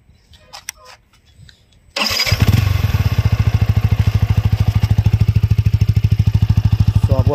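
A 2022 Yamaha MT-15 V2.0 motorcycle with a single exhaust, in metallic black, cranks briefly after a few quiet handling noises, catches with a sharp bark, then settles into a loud, steady, rapidly thumping idle close to the microphone.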